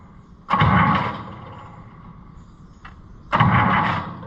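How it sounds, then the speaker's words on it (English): An Allis-Chalmers 200 diesel tractor engine cranks twice, each burst a loud, close churning start that fades out, separated by a quieter pause with a faint click between. "Will it crank every time?"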